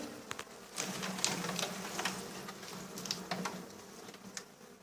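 A wild swarm of honeybees hums around hive frames in a honey house, a steady close buzz with individual bees zipping past, no talk.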